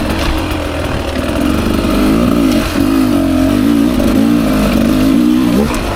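A 2024 Beta 300 RR Race Edition two-stroke dirt bike rides on a single-track trail, its close, loud engine revving and wavering in pitch as the throttle rises and falls, with no talk.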